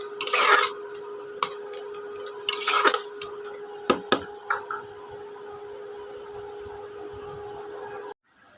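A spoon scrapes and clatters against a pan while mashed pointed gourd fries, irregular stirring knocks over a faint steady sizzle, close by.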